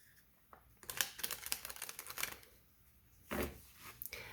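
Tarot cards being drawn and shuffled, a quiet close-up run of rapid papery riffles and flicks in two bursts with a short pause between, with no talking.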